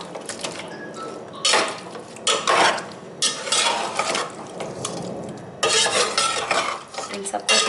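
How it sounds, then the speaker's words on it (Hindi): Mutton qorma with spices is stirred in a pot, giving close scraping of a spoon against metal in repeated sweeping strokes with a moist, slightly sizzling texture. "इन सबको अच्छे से मैं मिक्स कर रही हूँ।"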